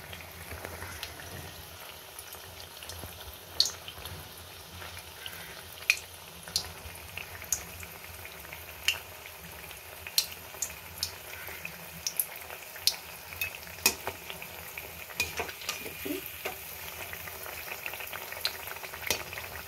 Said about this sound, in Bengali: একটু ভাজা হোক, তারপর উল্টে দেবো।